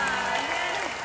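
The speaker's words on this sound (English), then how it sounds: "Give them all a big round of applause" A brief wash of crowd applause for the band at an outdoor country music concert, with cheering voices mixed into the clapping.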